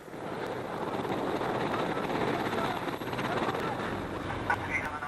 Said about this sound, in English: if it weren't for the noise of the engine, the team might not have even found the helicopter